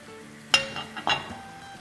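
Marinated chicken drops into a pan of softened onions and starts to fry with a soft sizzle, as a few metallic clinks of a utensil against the pan ring out nearby.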